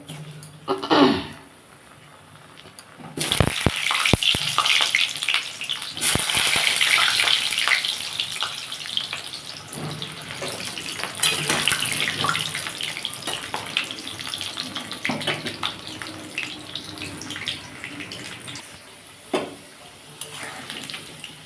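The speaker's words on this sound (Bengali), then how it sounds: "আমি এমনিতে আলুগুলো ভেজে নেবো" Potatoes hit hot oil after a quiet start and set off a loud, bubbling sizzle that swells, then settles into a steady crackle with a few sharp pops and knocks along the way.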